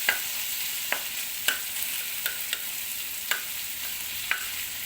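Shredded cabbage palya frying in an oiled pan, a soft even sizzle broken by sharp spatula taps and scrapes against the pan about once a second.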